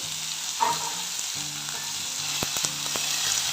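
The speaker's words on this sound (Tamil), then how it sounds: "வானலியில் ஆயில் விட்டு உளுத்தம்பருப்பு, கடலைப்பருப்பு, தக்காளி, பூண்டு, பச்சை மிளகாய் எல்லாம் போட்டு தாளிச்சிட்டு" Urad dal, chana dal, tomato, garlic and green chilli tempering in hot oil in a kadai, a bright continuous sizzle with occasional spatter pops and a few faint utensil clinks.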